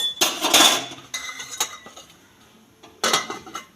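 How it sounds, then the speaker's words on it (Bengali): A lid goes onto a pot of cauliflower, potato and pea curry with a few sharp metallic clanks and rattles in short bursts, near and fairly quiet, with a pause between them. "সবজিগুলো ভালো করে সিদ্ধ হওয়ার জন্য আমি ঢাকা দিয়ে দেবো"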